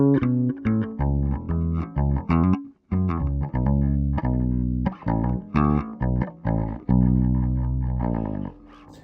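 An instrument played through an Avalon U5 active DI set to tone-shaping position 6 rings out in a steady run of sustained, close notes and chords with no pauses or speech.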